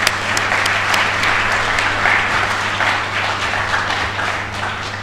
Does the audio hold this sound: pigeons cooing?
no